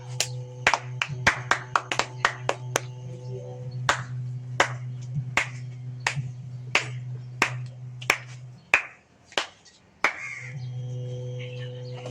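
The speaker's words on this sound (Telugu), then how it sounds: "చప్పట్లు కొట్టురు" Hands clap at a Ganesh mandapam prize-giving event in Velpur. Sharp, separate claps ring out at a steady pace over a low electrical hum, then slow and thin out near the end.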